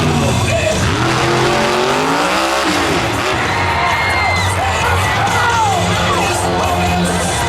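The TME 20 monster truck, driven by Tim Jones, roars through a freestyle jump, its engine loud and revving with sweeping pitch changes, over a cheering crowd at an outdoor show.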